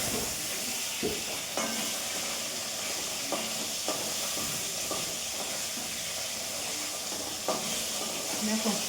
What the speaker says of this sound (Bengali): মাছের মাথা ভাজি